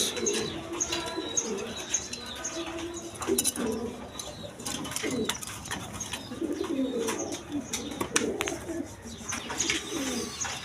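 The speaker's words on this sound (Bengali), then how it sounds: "এখানে এক পেয়ার গররা কবুতর আছে দেখেন" A pair of Gorra pigeons coo in soft, low, throaty bursts, several birds overlapping, with occasional chirps and rustling in a busy, close background.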